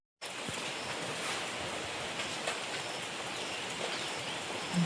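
Heavy rain pours down steadily in the Sundarbans. It makes a soft, even hiss that starts abruptly and holds at a constant level with no talk over it.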